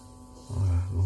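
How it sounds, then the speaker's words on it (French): Refrigerant gas flowing through a Frigoboat marine fridge system: a low steady hum that swells in the second half and holds, close and fairly faint, with no talk. "J'entends le gaz qui arrive."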